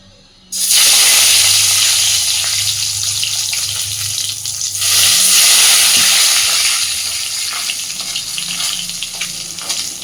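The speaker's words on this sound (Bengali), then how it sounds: "এইবার টমেটোটা ভেজে নেব।" Tomatoes dropped into hot oil for a brinjal and tomato mash, a loud sudden hiss that swells again midway and settles into a steady, close sizzle with no talk.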